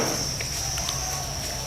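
Crickets in breeding boxes at a cricket farm chirp steadily, a continuous high-pitched trill running close and unbroken throughout, with faint shuffling beneath.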